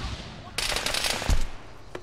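Sustained burst of minigun fire in Arma 3, a dense rattling volley that starts abruptly and runs for about a second, with a heavier thump near its end and a short sharp crack after it.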